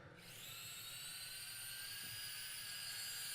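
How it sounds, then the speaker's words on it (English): Electric ducted fans on a model rocket spin up under remote-control throttle, a whining, high-pitched hum that rises quickly from silence and holds steady and fairly loud. "the electric fans are ready to be operated by remote control. So if I throttle up, you should hear it"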